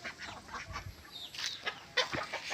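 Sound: chickens clucking

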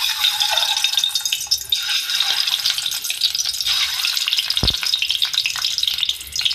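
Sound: eggs frying in oil

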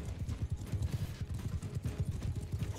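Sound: horse hooves, from video game Mount & Blade II: Bannerlord

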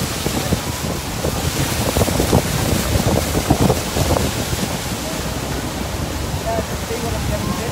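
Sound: tour boat on the Niagara River with wind and waves

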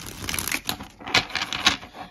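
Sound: tarot cards being shuffled

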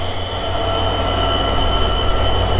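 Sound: train locomotive

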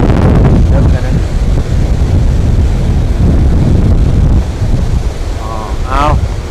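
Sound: waves on the water with wind

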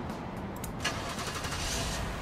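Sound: car engine starting in Roadside Assistance Simulator video game

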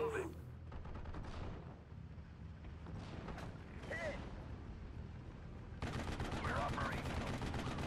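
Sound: machine gun fire in video game Steel Division: Normandy 44

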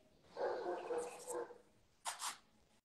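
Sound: dogs barking in the background

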